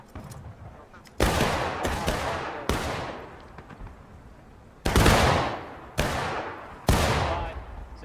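Musket volleys ring out in the Civil War shooter War of Rights, six loud sharp volleys at irregular intervals, each cracking then rolling off into a long echoing tail.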